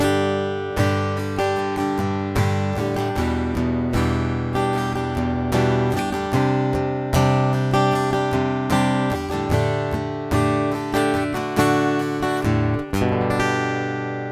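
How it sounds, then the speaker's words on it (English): An acoustic guitar heard through a Fishman Matrix under-saddle pickup with flat EQ, strummed and picked in a steady flowing pattern, loud and close with no talk. "This is just the Matrix under saddle pickup."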